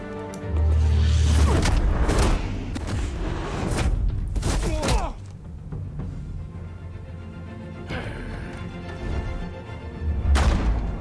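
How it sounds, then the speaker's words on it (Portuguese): Gunfire in the Batman Telltale video game: a burst of loud sharp shots and thuds early on, followed by scattered impacts and a final heavy bang over a low game soundtrack. "Vou dar um tiro no Batman."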